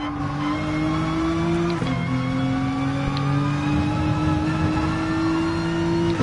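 A Group 4 race car engine in Gran Turismo Sport drones loud and steady, its pitch climbing gradually through long gear pulls with a brief dip at a shift, alone without voices.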